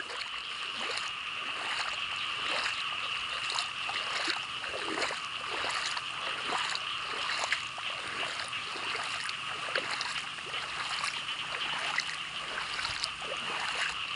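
Strong runoff water after a night of heavy rain rushes and splashes steadily and continuously close by, a dense broadband wash with no pauses and no voices.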